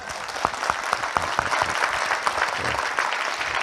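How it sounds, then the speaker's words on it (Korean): An audience at a seminar claps together, a dense steady applause with a few sharper distinct claps standing out early on, loud and continuous for the whole stretch. "박수 한번 치다 이제"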